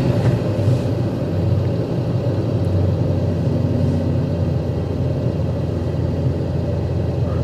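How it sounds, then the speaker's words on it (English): A Toyota or Lexus truck engine runs with a steady, loud low rumble throughout, idling close by with no distinct start and no talk. "I'm gonna start the truck now and then we'll take a look and see those values change"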